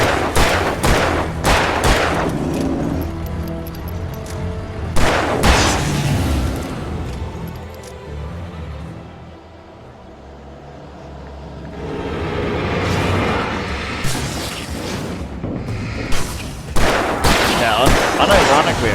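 Rapid bursts of gunfire in Alan Wake Remastered crack loudly in clustered volleys, dropping to a quiet lull midway before the shooting resumes; someone talks over parts of it.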